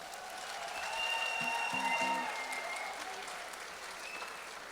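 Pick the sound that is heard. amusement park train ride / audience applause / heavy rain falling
audience applause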